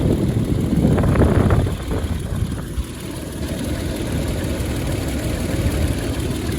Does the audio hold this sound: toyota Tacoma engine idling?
yes